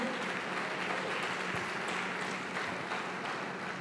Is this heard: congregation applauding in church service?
yes